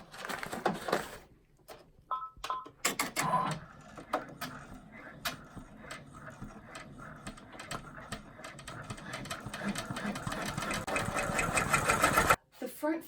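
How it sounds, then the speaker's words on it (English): Sewing machine stitching fabric on a zippered bag, running in stops and starts before settling into a longer rapid mechanical run, close and moderately loud, with talk occasionally over it. "Now it's going to stitch this in place."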